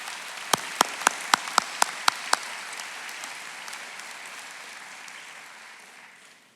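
Scattered hand claps open into a steady wash of applause from the audience honoring families at a high school graduation ceremony, sustained for several seconds before slowly fading.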